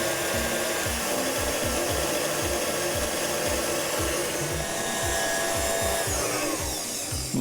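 An electric mixer whisking bûche de Noël batter at maximum speed, a loud continuous whirring with rhythmic scraping pulses as the beaters circle the bowl, steady throughout.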